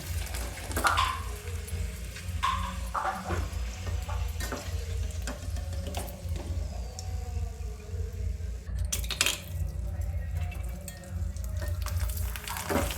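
Oil tempering for a mint and coriander chutney sizzles steadily in a pan under a low hum, punctuated by occasional clinks and stirring scrapes, close and continuous.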